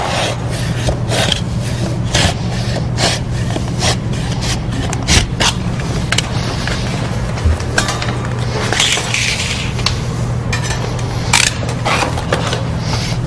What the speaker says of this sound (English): I'll use a 6-inch broad knife blade right against the piece, and I got to go section by section like this